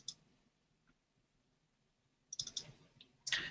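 Crisp computer mouse clicks, a pair of quick clicks near the start and a further cluster of sharp double clicks later, close and clear against near silence.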